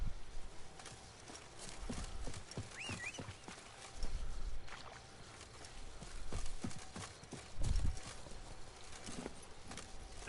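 Roach, Geralt's horse in The Witcher, moves at a gallop with repeated hoof clip-clops in an uneven rhythm, fairly quiet, over a soft game ambience with a few heavier thuds.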